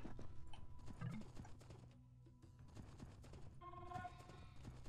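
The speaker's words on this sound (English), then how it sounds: "Horse." Horse hooves clip-clopping in Age of Empires 2, a faint scatter of irregular clopping steps set against game ambience, a short pause, and then a tonal mechanical ringing chime.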